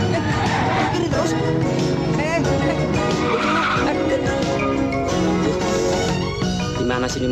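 A 1987-era car skids and spins in circles, tires squealing repeatedly over a revving engine, with voices talking and shouting throughout.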